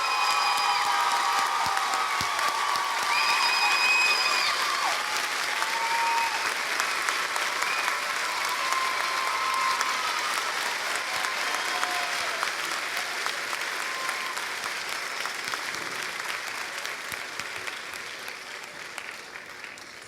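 A large audience at a Morgan State University spring commencement applauds for new doctorate graduates, sustained clapping that fades slowly with a faint whistle or cheer above it.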